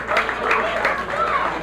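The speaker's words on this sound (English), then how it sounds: "let's have a hand for both these fine wrestlers, the Lightning Kid" A ringside wrestling crowd applauds after a match, a short burst of dense clapping and cheering with an announcer's voice over it.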